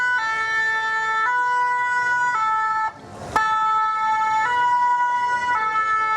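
A two-tone emergency vehicle siren wails steadily at a fire brigade demonstration, alternating high and low notes about once a second, loud and near, with a brief dip and a sharp bang midway.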